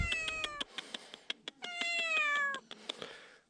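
A cat on a mountain trail meows repeatedly, close and insistent, with drawn-out cries interspersed with soft footstep-like taps, no talking.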